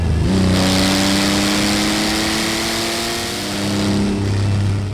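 A Rünge R2 car engine revs up on a downshift, a single close, loud rising blip that holds a steady droning note, then eases and swells again.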